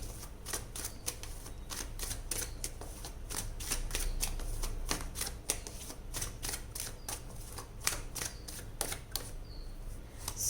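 Tarot cards drawn and shuffled from a deck close by: a quick, irregular run of crisp card flicks and snaps over a soft, steady background hum, with no talking.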